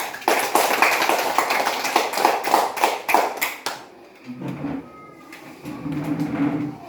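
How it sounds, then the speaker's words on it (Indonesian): A class of students gives a round of applause in a classroom: dense, steady clapping for about four seconds, then it stops and only faint room sounds and a low voice remain. "Kita berikan tepuk tangan karena semua hadir."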